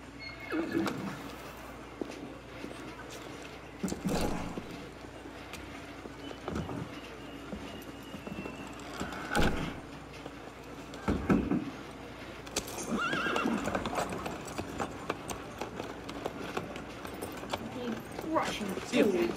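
Horses whinny and clip-clop in the video game Assassin's Creed Unity, set in a Paris stable, with several neighs and hoof clatter over a busy ambient bed of cooing pigeons and other birds, plus background speech.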